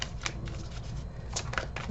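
Tarot cards riffle and slap together in quick close bursts, a light papery shuffling repeated several times.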